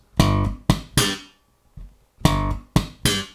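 Slap bass octave pattern on G with a ghost note between the octaves, played up close as sharp percussive thumps and pops in a short repeated figure with a brief gap.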